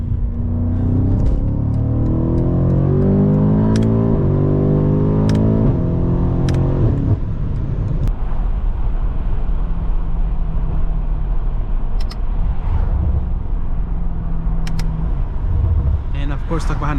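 A 700hp BMW F90 M5 Competition sedan driving and merging into traffic at about 40 mph, with a loud, steady engine drone rising through the gears, then a continuous road rumble and sharp clicks over it.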